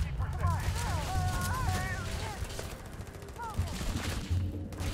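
Sci-fi weapons fire in a Starfield firefight, a steady clatter of shots running throughout, while a voice rises briefly over the shooting.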